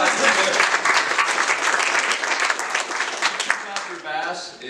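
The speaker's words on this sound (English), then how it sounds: "Give them a big round of applause." A room full of people applauds new martial arts school owners at a December camp, dense, lively clapping carrying on for several seconds before thinning out at the end, with no speech over it.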